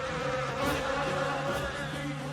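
Honeybees buzz in a steady, close drone with a constant hum and slight wavering, heard alone with no talk.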